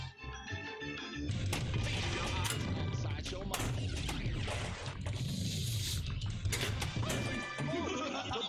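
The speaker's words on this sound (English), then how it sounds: "Fire that cannon!" Booming cannon-like blasts and crashes burst through a busy, dense stretch of pinball video game sound effects on the Cirqus Voltaire table in Pinball FX3, loud and chaotic.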